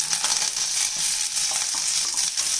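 Steady, loud sizzling of spices, bay leaf and green chillies frying in hot oil, a continuous crackling hiss close up with no talking.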